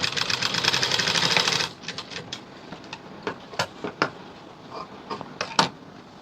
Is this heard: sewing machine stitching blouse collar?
yes